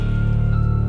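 Heavy rain falling, a steady, close patter with a low, even rumble beneath it and no voices.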